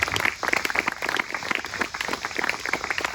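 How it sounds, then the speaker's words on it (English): Audience applause for the singers of an operetta performance, dense clapping that holds at a steady moderate level throughout. "one more round of applause for Desiree and Rob"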